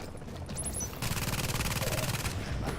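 A deployed turret in a tactical shooter game fires rapid, steady bursts of automatic gunfire that start abruptly after a brief lull and continue loudly and evenly for the rest of the moment.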